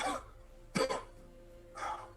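A single harsh cough between short bursts of a voice, close and moderately loud.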